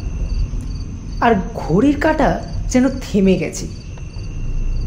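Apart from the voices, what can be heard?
crickets chirping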